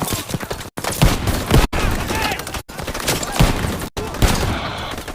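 Rapid bursts of gunfire from the World War II video game Call of Duty WW2, loud and dense, firing in repeated volleys separated by brief gaps.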